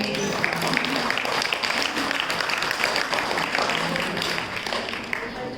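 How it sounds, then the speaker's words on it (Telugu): Sustained applause from a women's fellowship audience fills an assembly hall in Dichpally, a dense steady patter of many hands at even loudness throughout. "అందరూ చప్పట్లు కొట్టాడు ఒకసారి"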